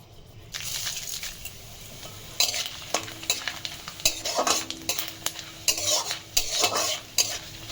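Panch phoron spices frying in hot oil and being stirred, a constant close sizzle under busy scraping and clinking of a spoon against the pan, growing denser midway, with no talk.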